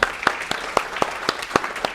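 Scattered hand claps in a classroom law lecture, roughly eight crisp, separate claps in a quick, fairly even rhythm, close and moderately loud with quiet gaps between them.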